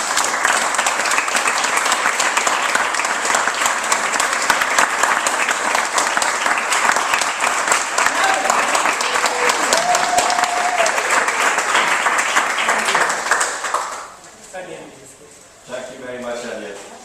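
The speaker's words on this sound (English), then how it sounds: "Just one more round of applause, please," Loud, sustained applause from an audience at a business networking event, many hands clapping close and full for most of the stretch before it fades and a voice begins speaking.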